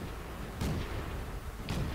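Two tank cannon shots in World of Tanks, each a short muffled boom with a sharp crack, spaced about a second apart and heard at a distance under a faint, steady background rumble.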